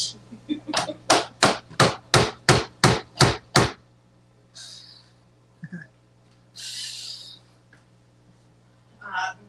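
A cordless drill used as a makeshift hammer strikes something ten times in a quick, steady rhythm, loud and close, followed by quieter shuffling and handling noises.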